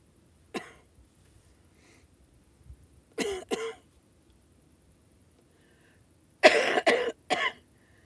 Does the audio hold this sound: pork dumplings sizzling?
no